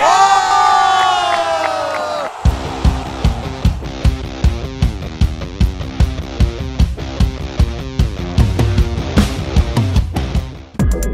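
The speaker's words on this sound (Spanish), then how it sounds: "¡Vamos con las palmas!" Outdoors, a crowd whoops and cheers loudly for a couple of seconds, then breaks into rhythmic unison clapping on a steady beat alongside music, with voices shouting in the background.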